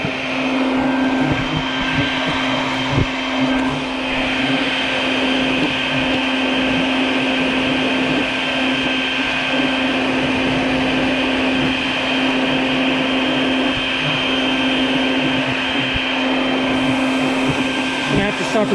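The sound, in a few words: vacuum cleaner running near hornet nest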